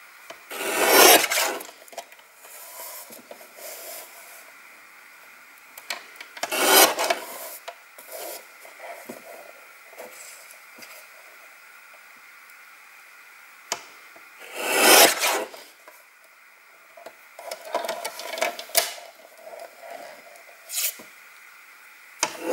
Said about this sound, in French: On va le découper pour que ça fasse une fine bande.